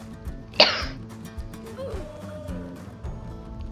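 A single sharp cough bursts out near the start, followed by game sounds and low background noise; a male gamer playing Roblox coughs close to the microphone.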